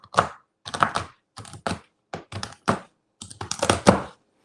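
A knife roughly chops almonds and pecans on a board, a series of close, sharp, irregular knocks in short bursts with brief pauses between them.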